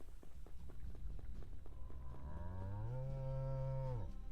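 A cow in the video game Sacred lets out one long, loud moo that swells and then cuts off. Softer game footsteps tap underneath it beforehand.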